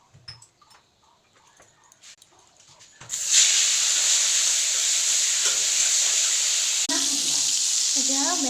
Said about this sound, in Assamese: এতিয়া বেঙেনা ভাজি আছোঁ, ৰাতিপুৱাৰ ভাত হিচাপে।